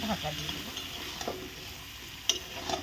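Spiced meat frying in a pan as it is stirred and turned, a steady sizzle with occasional clinks and scrapes of a spoon against the pan, close and fairly quiet.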